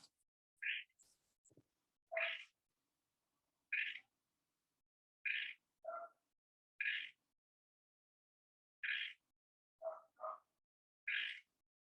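Frogs calling outdoors in a quiet setting, sparse single croaks about a second or two apart, fairly faint and clear against near silence, with no voices.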